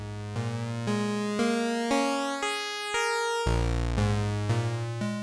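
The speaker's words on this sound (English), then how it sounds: "which gives a pulse width modulation type sound" A buzzy Arturia MiniFreak synthesizer tone steps through a series of notes, its timbre shifting and thinning with pulse width modulation as the waveform changes, played alone.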